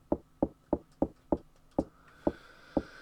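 Door rattling against its lock in the SNES game Clock Tower, heard as about eight sharp, evenly spaced knock-like thuds, fairly loud and alone, with a faint tone rising underneath toward the end.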